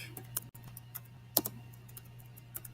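Typing on a computer keyboard: a few faint, scattered key clicks over a low steady hum, with one sharper tap partway through and no talking.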